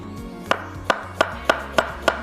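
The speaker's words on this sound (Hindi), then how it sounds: "चॉपिंग बोर्ड थोड़ा सा नज़र आने में मसला हो रहा है हमारा, इसलिए ज़रा सा इधर करके कटिंग कर लेते हैं" A knife chopping food on a chopping board for garlic mutton biryani, six sharp, evenly spaced thuds about a third of a second apart, close and distinct over a low kitchen hum.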